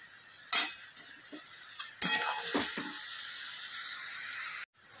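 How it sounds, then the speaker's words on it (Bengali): Spice paste is stir-fried in a pan with a little water while making a pointed gourd curry, giving a few scattered utensil scrapes and clinks over a soft, steady sizzle that cuts off near the end. "তো চলুন এটা খুব ভালো করে কষিয়ে নিয়ে আর আসছি।"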